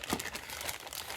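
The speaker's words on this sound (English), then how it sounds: "looks like this model came in a bag, plastic bag" Plastic bag around a Trenchworx snap-tray model kit of a Finnish BT-42 crinkles in a steady close-up rustle, with brief crackling bursts throughout and no talking.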